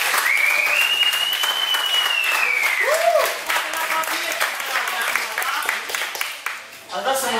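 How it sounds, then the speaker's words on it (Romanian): Applause from a crowd at a bouldering climbing competition, thanking the sponsor Vasile: dense, steady clapping filling the room, with a whistle and cheers rising over it and fading near the end. "Și acă aplauze pentru Vasile."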